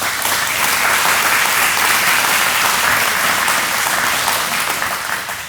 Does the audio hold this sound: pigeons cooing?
no